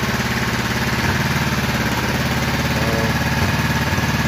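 A Ninja 500R motorcycle engine in a dune buggy build, air box not properly fitted, idles roughly nearby, a steady loud chugging with an uneven, slightly lumpy rhythm throughout.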